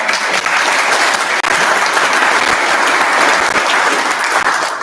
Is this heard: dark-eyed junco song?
no